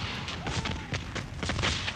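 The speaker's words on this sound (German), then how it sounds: "Die Männer laden und feuern in dämonischer Raserei." Dense rifle and artillery gunfire from an American Civil War battle, a continuous roar of overlapping shots and booms with no pauses, loud and chaotic throughout.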